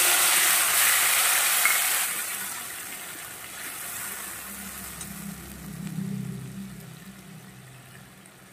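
Ground spice paste hits hot oil with frying cumin seeds in a pan and sets off a loud, bright sizzling hiss. It gradually settles into a softer, steady frying crackle over a low background rumble.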